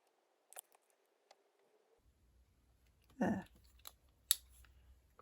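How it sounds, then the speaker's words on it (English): Scissors snip around a time-worn vintage paper tag, giving a few sharp close cuts and rustles with quiet handling noise between them, and no voices. "So I'm just going to cut around that."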